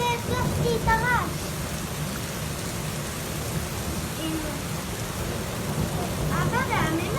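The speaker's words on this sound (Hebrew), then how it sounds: "רעמים מחזקים גשם?" Thunderstorm with steady heavy rain and low rolling thunder filling the whole stretch, with voices talking faintly at the start and end.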